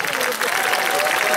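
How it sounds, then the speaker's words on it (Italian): A live audience at an Italian talent show claps loudly and continuously, a short dense burst of applause with a faint tonal sound running underneath. "Signori, un applauso agli Armidiet,"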